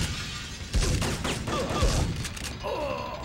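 Combat shotgun blasts in the video game Syphon Filter, several heavy booming shots spaced about a second apart, each with a sharp crack over clattering game effects and rumbling ambience.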